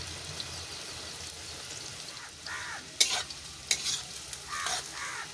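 Finely sliced onions stirred into hot white oil for biryani, a soft continuous sizzle with scraping stirs and a few louder clatters, close and steady.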